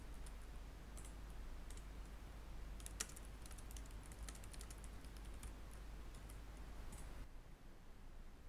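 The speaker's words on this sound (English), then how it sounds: "Here's how the typing on the keyboard and the mouse clicks sound like." Quiet, rapid typing on a Logitech K380 wireless keyboard with irregular soft clicks, a few sharper taps mixed in, heard close and alone over a low background hum.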